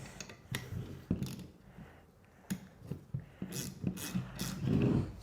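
Slow ratcheting turns of a bolt draw a Porsche 944 Koni shock absorber into its strut cartridge, a quiet series of metallic clicks and scrapes at close range.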